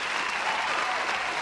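A brief burst of canned applause plays on a comedy talk show, a dense steady clatter of many hands clapping at moderate loudness, with no voices.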